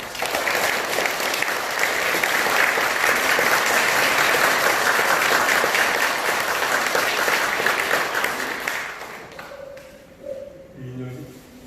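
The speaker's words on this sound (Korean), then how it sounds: "다시 한번 격려의 박수 부탁드립니다" Sustained audience applause fills a temple lobby at Bulgwangsa, dense and loud for about nine seconds before thinning into scattered claps and a voice near the end.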